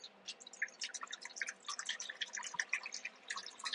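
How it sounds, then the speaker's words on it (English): Bottled water pours into a dog's bowl, quiet splashing and trickling with rapid irregular drips, close and alone. "I'm giving my dog water because she's thirsty"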